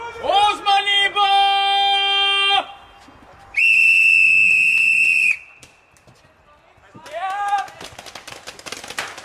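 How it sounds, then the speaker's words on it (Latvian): During an outdoor paintball game a referee's whistle shrills in several long, loud blasts, some broken into short chirps, with shouting voices between them. "Pēc svilpes, vīri, pēc svilpes!"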